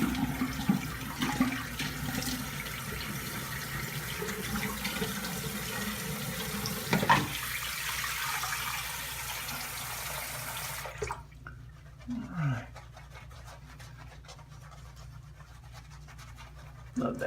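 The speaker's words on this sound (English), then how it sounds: "gonna rinse off and go for pass number 2." A razor is rinsed under a running tap during a wet shave. Water pours steadily from the faucet for about eleven seconds, then stops, leaving faint scraping and small handling noises near the sink.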